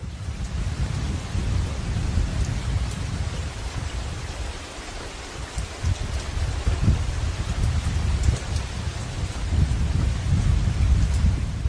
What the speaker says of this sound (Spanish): No ha parado de llover un solo minuto desde que dejamos al equipo grabando en el Hyde